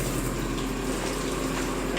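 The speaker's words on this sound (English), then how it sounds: "Shower head works." A running shower head in a rental home bathroom gives a steady, loud, continuous rush of water with no breaks and no voices.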